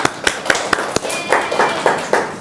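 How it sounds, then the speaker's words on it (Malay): Classroom applause arrives as a quick run of sharp, close hand claps, irregular and uneven, loud against a quiet room. "Beri tepukan."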